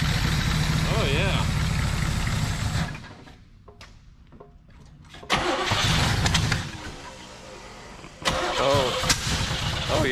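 Lamborghini Countach engine making a first start after repair work, cranking and catching into rough loud running, dropping away, then firing up again twice, with people talking over it.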